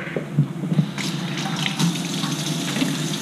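Water from a running kitchen tap splashes steadily as something is rinsed after vegetables were set to simmer for a meatloaf and cabbage dinner, a continuous close hiss with a few small knocks.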